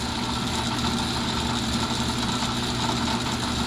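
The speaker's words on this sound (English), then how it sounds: "So that should pump everything out of the tank" A fuel pump runs steadily, draining gasoline from the tank of an old Mercedes 220. It makes a continuous even mechanical hum close by, with no break and no voices.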